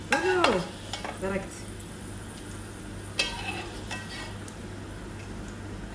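Onions fry and caramelize in a pot for kebab biryani while being stirred, a soft steady sizzle with scraping strokes and a brief voice at the start.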